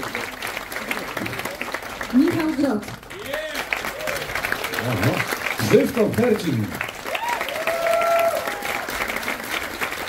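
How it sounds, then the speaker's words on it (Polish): Audience applause at a workshop closing ceremony, steady clapping under an announcer who reads out names over it, with bursts of cheering between. "ale brawa dla niego, przekażemy"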